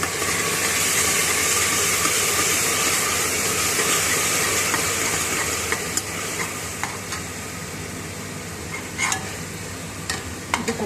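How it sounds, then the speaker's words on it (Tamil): Ginger garlic paste sizzles steadily in a pressure cooker with cooked onions, a loud continuous frying hiss with a few clicks and scrapes of stirring toward the end. "இஞ்சி பூண்டு பேஸ்ட்டை ஊற்றிடுவோம்."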